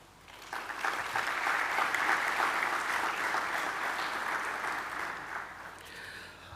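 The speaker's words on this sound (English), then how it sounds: "please applaud those you have invited to share this moment with you" Audience applause at a university graduation ceremony, a steady wash of many hands clapping that swells in, holds evenly for several seconds, then tapers at the end.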